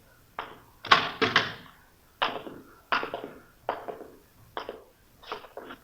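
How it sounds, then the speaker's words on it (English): A door in a radio drama is forced open, with about eight heavy, close thumps and bangs landing in an uneven rhythm, each separated by brief pauses. "You want to open the door?"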